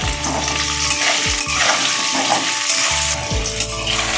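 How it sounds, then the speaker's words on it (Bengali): Potatoes fry in hot oil with turmeric and salt, a loud continuous close sizzle and crackle with stirring and clattering under it, and a low hum that cuts in and out, no voices. "দিয়ে দেবো একটু হলুদ, দিয়ে দেবো একটু নুন, দিয়ে আমি ভালো করে লাল করে ভেজে নেবো আলুটা"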